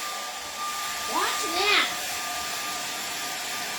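A hair dryer blows over wet paint during an aurora borealis painting session, a steady broadband whoosh running throughout, while a voice and speech break through briefly in the middle.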